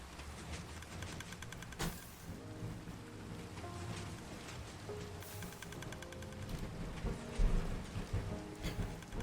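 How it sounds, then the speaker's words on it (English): Steady rain hisses in the Minecraft video game while thunder cracks sharply twice and then rumbles away, a continuous wet wash that stays loud and close throughout, with no voices. "Let's get rid of the rain, for us at least."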